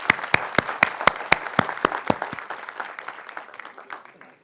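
An audience at an Atomy India felicitation event claps in a brisk, evenly paced rhythm, the crisp claps loud at first and then gradually thinning and fading out.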